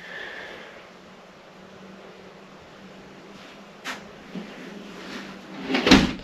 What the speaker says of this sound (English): A little latch here to keep the door from swinging open in heavy seas.